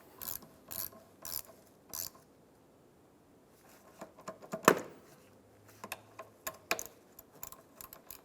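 A ratchet snugs down the negative battery cable terminal on a 2003-2007 Infiniti G35, giving close, crisp bursts of rapid clicking in short irregular runs separated by brief pauses.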